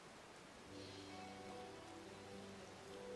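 Rain falling in the game Final Fantasy XIV, a steady soft wash of drops that grows a bit fuller after the first moment, with a low tonal game drone underneath and no voices.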